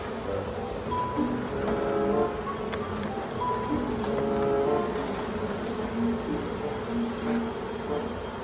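Honey bees at an opened hive give off a steady, close, continuous buzz with wavering tones, alone with no talk.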